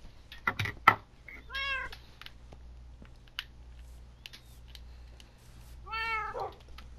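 Two clear cat meows from Minecraft, spaced a few seconds apart over a low game hum, with a few sharp clicks and taps near the start.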